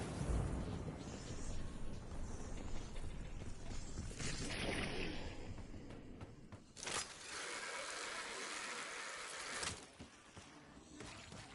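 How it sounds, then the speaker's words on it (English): Incendiary grenade thrown in the zombies game Totenreich: mechanical clicks of the throw, then a loud whooshing burst of flame that roars steadily for several seconds before cutting off, with game music and effects underneath. "Throwing incendiary"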